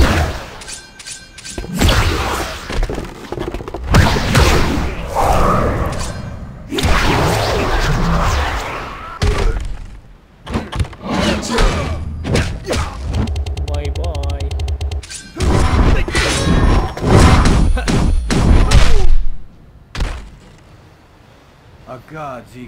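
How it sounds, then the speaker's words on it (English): Fujin's special attack in Mortal Kombat 11 mobile lands as loud whooshes, thuds and crashing impacts, mixed with dense game sound and a game voice. "My special attack does damage"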